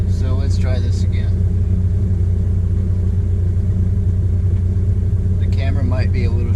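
A 1996 VW Passat TDI diesel on its first drive, heard from inside the cabin as a constant, heavy low rumble, with brief bits of voice near the start and end.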